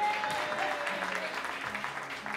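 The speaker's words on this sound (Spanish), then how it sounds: "Ahora sí, con todos vosotros, ese fuerte aplauso." Audience applause for a contestant at the final of a talent music show, a steady wash of clapping from a crowd lasting a couple of seconds.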